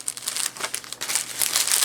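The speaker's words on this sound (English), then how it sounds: "I'll slip my piece of paper in there now." Paper crinkling close by, a steady run of crisp rustles and crackles for about two seconds, with no voices.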